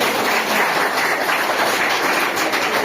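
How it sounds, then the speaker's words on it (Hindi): Sustained applause from a ceremony audience at a Rani Ahilyabai Holkar birth tercentenary commemoration, a dense, steady wash of clapping filling the whole stretch without voices. "इनके लिए भी जोरदार तालियां एक बार"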